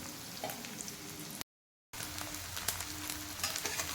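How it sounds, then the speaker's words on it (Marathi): Taro root (arbi) frying in a pan on medium gas, a steady crackling sizzle with scattered pops, briefly cut to silence before resuming just as before. "मीडियम गॅसवर मी फ्राय करून घेते."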